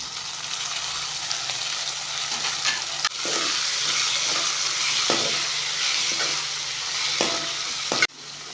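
Onions, garlic and chopped tomato sauté in a pan for a sardine fish curry, a loud continuous sizzle broken by spatula scrapes every second or two and a couple of sharp knocks against the pan.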